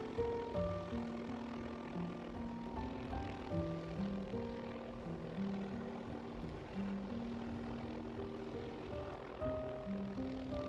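A helicopter hovers near power lines during a seagull rescue, a steady throbbing rotor drone with engine hum, fairly faint and continuous, with no voices.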